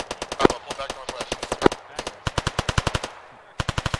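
Sustained bursts of machine gun fire in ARMA 3, a dense run of sharp evenly spaced rounds with two heavier cracks early on, a short pause, then another quick burst; loud and close, with faint radio-style chatter underneath.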